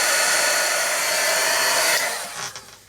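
A hair dryer blows steadily on a watercolour fruit still life painting, a loud continuous close-up roar for about two seconds before it switches off and winds down.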